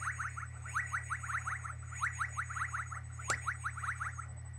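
A Lego Alien Conquest 7065 mothership toy plays its electronic sound, a fast run of repeating warbling chirps over a steady low hum, faint and close, with a single sharp click partway through.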